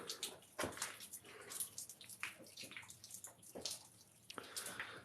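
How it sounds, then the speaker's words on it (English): Water leaks and drips inside an abandoned 1800s pub's first-floor bathroom, an uneven run of splashes and patters close by, irregular and fairly quiet. "Sounds like water running."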